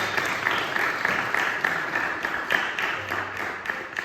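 Congregation clapping together during a sermon in a church, steady dense applause from many hands that holds for the whole stretch at moderate level, with a few voices faintly mixed in.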